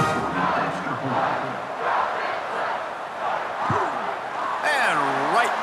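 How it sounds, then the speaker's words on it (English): Crowd noise at a college football game, Appalachian State at Boise State, roaring steadily after a scoring drive and extra point, with a commentator talking over the sustained stadium din. "this crowd is feeling themselves after that last drive"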